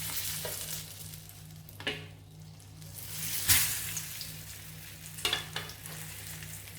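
Boiled corn frying in melted Milky Mist butter gives a soft, steady sizzle, broken by a few sharper stirring clacks and scrapes in the pan.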